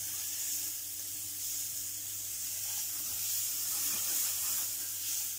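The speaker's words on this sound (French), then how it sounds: "on va venir faire suer légèrement nos échalotes pendant 1 ou 2 minutes" Chopped shallots sweat gently in a pan for a poultry dish with savagnin sauce. A soft, steady sizzle and hiss continue without a break, faint and close.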